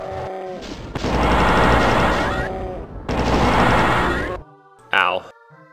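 Rocket launcher in the Doom video game fired twice, each a loud roaring blast lasting over a second, followed by a brief sharp burst near the end.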